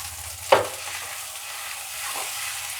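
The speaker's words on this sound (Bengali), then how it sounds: "এখন এগুলোকে দিয়ে একটু সাঁতলাতে হবে।" Potatoes with salt, sugar, turmeric and spice mix sizzle steadily in a pan, with a sharp scrape of stirring near the start and a softer stir later.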